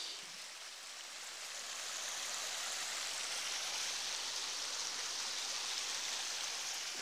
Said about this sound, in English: Let's go out and do some first recordings of a little creek.